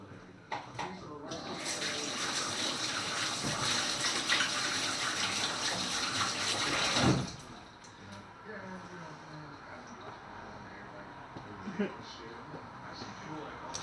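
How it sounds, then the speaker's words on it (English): Tap water gushing into a sink during handwashing after shaping meatballs, a loud steady stream for about six seconds that stops abruptly, followed by quieter kitchen sounds and people talking. "I'm just going to wash my hands"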